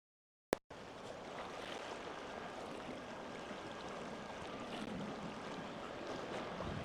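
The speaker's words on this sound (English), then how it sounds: "The wind is so strong" Strong wind gusting by a river, heard as a constant, loud broadband rush of wind buffeting the microphone, steady throughout with no speech.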